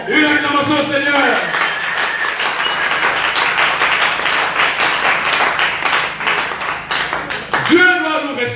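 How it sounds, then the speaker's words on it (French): A church congregation claps steadily in acclamation of the Lord, a dense run of hand claps filling the room, with voices and singing heard at the start and again near the end. "Une acclamation au Seigneur."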